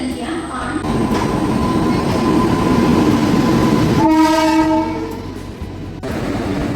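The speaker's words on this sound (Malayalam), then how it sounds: "നമ്മൾ രപ്തിസാഗർ എക്സ്പ്രസ്സിലാണ് പോകുന്നത്." The Raptisagar Express passenger train rumbles along loudly and steadily, and its horn blares for about a second partway through.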